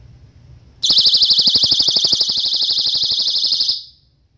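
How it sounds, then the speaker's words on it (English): A loud personal safety alarm blasts a piercing, rapidly warbling high-pitched tone for about three seconds before cutting off, close and alone. "Just a really loud alarm."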